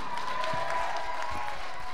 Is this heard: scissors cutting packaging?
no